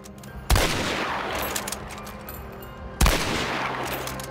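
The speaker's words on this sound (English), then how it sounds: "we are also adding true speed of sound and a gunshot ecosystem for a more authentic depiction of gunfire and explosions over longer distances" Two heavy gunshots from the video game Hunt: Showdown ring out about two and a half seconds apart, each a sharp, loud blast trailed by a long rolling echo that fades slowly.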